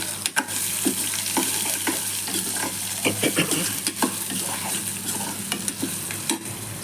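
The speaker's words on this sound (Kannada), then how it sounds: "ಈಗ ಈರುಳ್ಳಿ ಹಚ್ಚಿಟ್ಕೊಂಡಿದ್ದ ಈರುಳ್ಳಿ ಹಾಕುತ್ತಾ ಇದ್ದೇನೆ" Chopped onions fry in a pan for a tomato gojju, with a continuous sizzle beneath frequent clinks and scrapes of a spoon stirring against the pan, heard close up with no voices.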